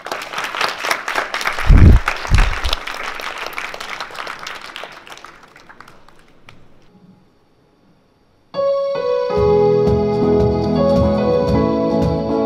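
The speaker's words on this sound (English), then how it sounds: "join me with a round of applause." A burst of audience applause at a college launch event, with scattered clapping that fades out, followed by a short silence and then loud music starting.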